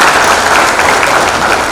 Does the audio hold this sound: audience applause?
yes